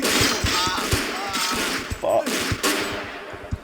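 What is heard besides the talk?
gunfire in the video game Vampire: the Masquerade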